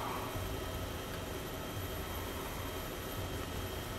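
A Huey helicopter flies in the video game DayZ, producing a steady, unbroken engine and rotor drone with a broad noisy wash and no talking.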